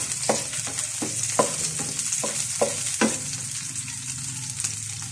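Tomatoes sauté in a pan for a mung bean stew, a constant close sizzle with a series of rhythmic spatula stirs and scrapes over the first few seconds.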